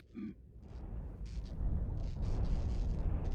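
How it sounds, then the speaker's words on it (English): The sun explodes into a supernova in the video game Outer Wilds, a deep, rumbling roar that swells and holds steady, heavy and continuous in the low end after a short tonal cue. "That sounds like the sun exploding."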